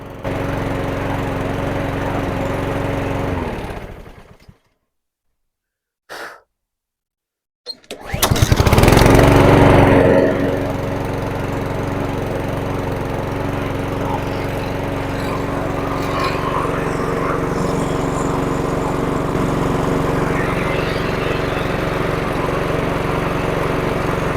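A lawnmower with a Honda engine runs steadily as it warms up, a loud, close, continuous drone that cuts out briefly near the start, then restarts with a surge and settles back into an even idle.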